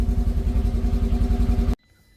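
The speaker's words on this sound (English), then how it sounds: "Let's actually see if this thing will fire up." A Polaris RZR 900S side-by-side engine runs with a loud, rapid, throbbing idle that holds steady, then cuts off abruptly into near silence.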